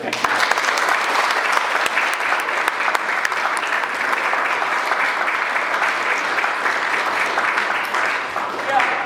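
An audience claps for a keynote speaker as a professor is welcomed to the stage. The applause is a dense, steady clatter of many hands that holds evenly for about nine seconds and fills the room.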